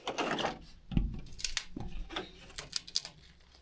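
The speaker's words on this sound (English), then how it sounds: "We're just going to screw up the top for right now just to make sure that they're all lined up well" Screws being driven into the roof panels of a solar lumber kiln during construction, heard as a few short, close mechanical whirs and clicks of a driver amid handling knocks.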